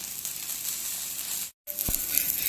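Rice flour dosa frying in a generous amount of oil in a pan, a steady close sizzle and hiss that drops out briefly and then resumes with a faint clink, no voices.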